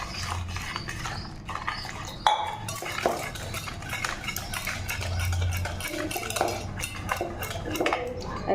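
Dhokla batter with sugar, water and refined oil being whisked in a bowl, giving steady quick clinks and scrapes of utensil against the bowl throughout, close and fairly busy, with no voices.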